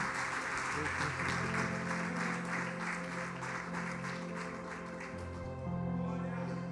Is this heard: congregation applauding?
yes